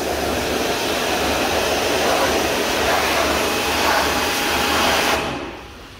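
A pressure-washer water jet blasts brake dust off the wheels of a BMW E90 at a car wash, a steady loud hissing spray that runs continuously and then cuts off near the end.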